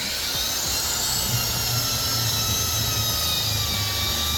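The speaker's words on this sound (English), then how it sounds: "Use a power drill to drill the holes where you marked them." A power drill bores holes into a wall for mounting a flat-screen TV bracket, with a steady, loud motor whine that runs without a break through the whole stretch.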